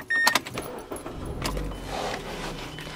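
Key turned in the ignition of a 2012 Mazda3 Sport GS automatic, a brief jingle of keys and clicks, then a low engine rumble starting and settling into a steady idle, close inside the cabin.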